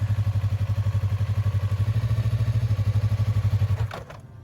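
A motorcycle ridden by a beginner chugs in a steady low, pulsing putter as it pulls away, then the engine abruptly cuts out and stalls near the end, leaving faint background noise.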